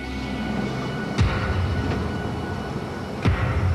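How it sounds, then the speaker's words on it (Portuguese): Explosive welding of metal plates produces two heavy, booming blasts about two seconds apart over a dense, rumbling background roar. "Por causa da densa poeira causada pela explosão"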